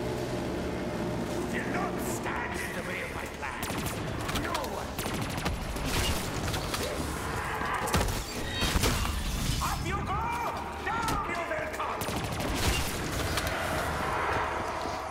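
Sustained Call of Duty Black Ops 3 Zombies gunfire, played on the Der Eisendrache map, rattles in dense bursts with sharp impacts and mechanical clatter, and a voice talks over the shooting.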